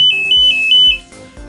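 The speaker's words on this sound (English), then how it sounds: "when I turn the key, the horn is sounding off" A vehicle's electrical horn sounds as the ignition key is turned on an MT2004, giving a short series of evenly spaced beeps at a steady pitch over some background noise.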